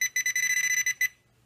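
A Deteknix XPointer pinpointer in beep-only mode gives a rapid run of about a dozen short, shrill, evenly spaced electronic beeps, close and loud, then stops and leaves silence.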